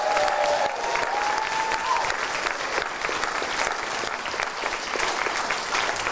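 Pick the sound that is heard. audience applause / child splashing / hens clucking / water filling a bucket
audience applause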